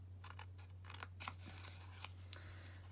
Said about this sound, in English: Now I'm going to cut up there and I'm cutting up there.